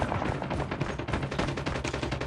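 Rapid automatic gunfire from a hard-recoiling weapon in Call of Duty Mobile, loud, close shots fired in fast, steady bursts that barely pause across the whole stretch.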